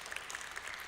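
Short, faint stretch of congregation applause in a church service, soft scattered clapping heard from a distance to welcome a family.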